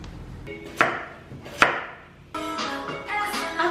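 A knife chops food on a board in a holiday villa kitchen: two sharp, separate strikes followed by a run of quicker, busier cutting and scraping sounds, close and clear.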